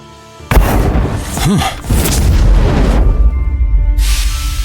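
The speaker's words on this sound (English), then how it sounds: "By all means, show me what fire you can conjure up." A magic fire blast in a fantasy audio drama erupts with a sudden loud boom, followed by a whooshing roar that swells and rumbles for a few seconds before fading into a crackling hiss.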